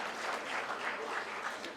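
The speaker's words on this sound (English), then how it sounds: "A round of applause" Brief, quiet applause from an audience honoring Greece's ambassador to Canada at a Greek gastronomy event in Montreal, a soft, even patter of clapping heard at a distance.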